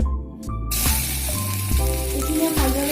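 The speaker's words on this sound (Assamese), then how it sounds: "এতিয়া মই ইয়াত আদা নহৰুৰ পেষ্টখিনি দি দিম।" Ginger-garlic paste drops into hot oil while cooking a singara filling, setting off a sudden, steady sizzle after a brief quiet start, heard beneath light background music.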